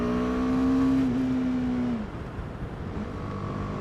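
BMW G310R single-cylinder 313 cc motorcycle engine revving, a clear rising-then-holding tone that drops off sharply around two seconds into a lower idle, close and moderately loud with no talking.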